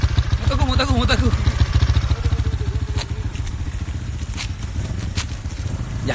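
A motorcycle engine runs close by with a steady low chugging pulse, while people talk loudly over it throughout.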